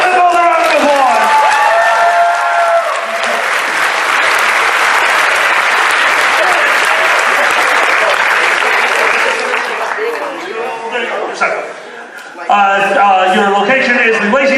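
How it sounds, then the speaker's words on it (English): Audience applause at Anthrocon 2018, a loud sustained round of clapping from a large crowd that swells and holds for about ten seconds before a voice returns, with speech at the start and end. "give another round of applause"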